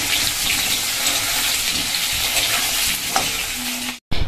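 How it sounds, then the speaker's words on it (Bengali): Potatoes fry in oil in a pan after cumin seeds have been tempered, giving a steady close sizzle with stirring scrapes throughout, before a brief break at the end. "এখানে আলুটা ভেজে নিচ্ছি।"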